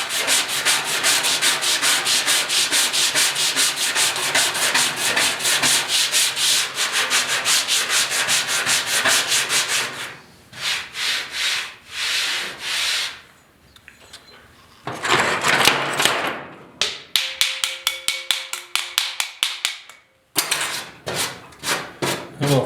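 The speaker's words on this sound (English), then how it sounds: "give her a bit of a light stroke with some 40 grit first" Hand sanding of 1969 Ford Bronco bed bodywork with 40 grit sandpaper: a long run of steady, close scraping strokes, then shorter bursts of rubbing separated by brief pauses.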